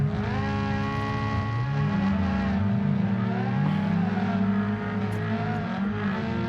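A car engine revs hard on a forest road in the BeamNG.drive driving game, a loud, sustained roar that climbs and falls in pitch through gear changes, with faint tire squeal.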